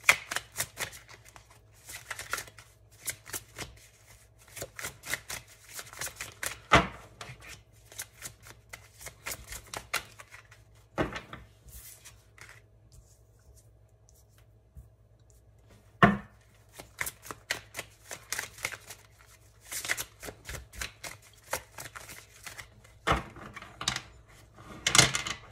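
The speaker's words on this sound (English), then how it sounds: "I'm just going to try to pull roughly 3 or 4 more cards" Tarot cards being shuffled and pulled, with repeated crisp riffling bursts and flicks close by and brief quiet pauses between them; no one speaks.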